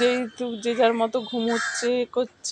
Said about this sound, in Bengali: শুধু পাখির ডাক কাগের